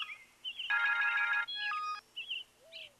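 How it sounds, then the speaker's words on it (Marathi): A telephone rings alone and fairly loud: a buzzy electronic ring burst, followed by a shorter tonal ring pattern with chirpy ringtone notes around it. "हय फोन रिंग जातालो"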